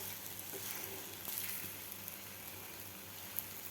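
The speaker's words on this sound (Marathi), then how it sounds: "दोन्ही बाजूकडून सुद्धा आपली मिरची व्यवस्थित फ्राय झालेली आहे" Masala-stuffed green chilies frying in a pan, a faint, steady oil sizzle with soft crackles and one small pop near the end, heard alone.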